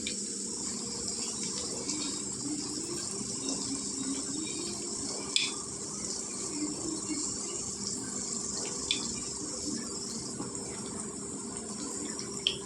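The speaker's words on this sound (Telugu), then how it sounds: "ఇందులోనే మనం నువ్వులు వేసుకుందామండి" Sesame seeds and cumin fry in hot oil for an ivy gourd and red chilli chutney, giving a steady, close crackling sizzle that runs throughout with no talking.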